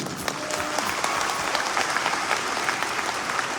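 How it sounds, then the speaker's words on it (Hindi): A large indoor audience claps steadily in a dense, continuous wash of applause, heard from within the crowd at moderate level with no speech over it. "अगर ताली बजाना है तो इन अपनों के लिए बजाना"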